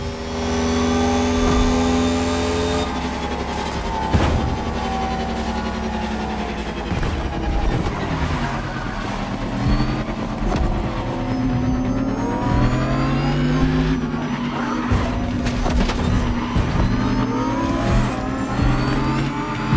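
Race cars in The Crew Motorfest roaring along a long island course, engines revving hard and shifting through gears with repeated rising and falling pitch and sharp surges, loud, close and continuous without talk.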